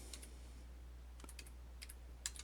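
Light, scattered clicks of typing on a computer keyboard, a few quick keystrokes in small clusters, faint against a low background hum.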